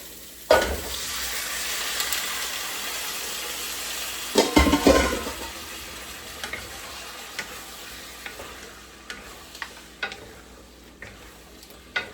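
Chicken pieces for adobo frying in a hot pan, a loud sizzle bursting in as the meat goes in and then settling into a steady crackle, with occasional clinks and stirring.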